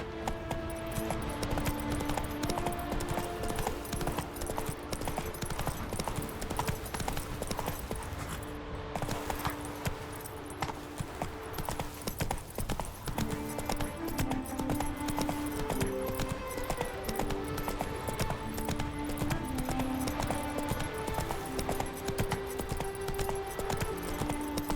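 Horse hooves clip-clop at a steady gallop in The Witcher 3, the rhythmic beat running continuously for the whole stretch under in-game music, with a brief voice faintly at one point.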